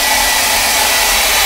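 A hair dryer runs steadily at close range, drying a freshly worked mixed media art journal page, a continuous loud airy whoosh with a low motor hum and no voices.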